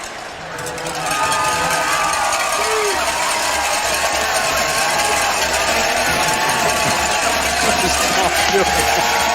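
A football stadium crowd at an Alabama vs. Mississippi State game roars loudly and steadily, a dense wall of distant cheering that swells after the first second, with a commentator talking over it.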